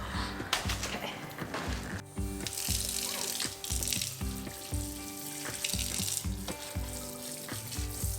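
Water runs and splashes steadily onto young garden plants, a continuous hissing gush that surges and eases for several seconds, with a faint low hum underneath.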